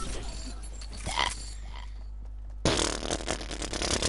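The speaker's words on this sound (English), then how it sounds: "I farted really loud." A loud, low, rumbling fart blasts out alone for a few seconds, then the sound jumps into a louder, rougher burst of noise.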